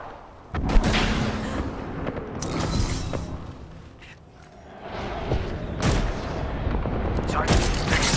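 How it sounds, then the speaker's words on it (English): Gunfire in Apex Legends: rapid bursts of close automatic shots and sharp cracks come in several loud volleys with brief lulls between them, alongside game effects. "They're shooting at me!"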